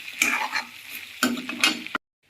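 Pork with ginger and garlic fries in a pan, giving bursts of loud sizzling and scraping stirs close up, two main flurries before the sound cuts to silence.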